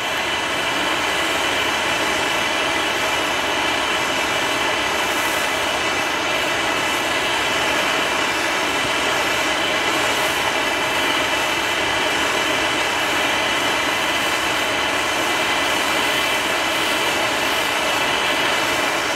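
A gas torch roars steadily as it heats an AK steel part to cherry red for heat treating, a loud, continuous broadband hiss with no pauses.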